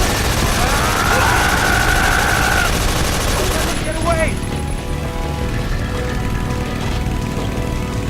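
Sustained automatic gunfire and bursts of shooting in Metal Gear Solid 3: Snake Eater, loud and dense throughout, with shouting voices and game effects mixed in.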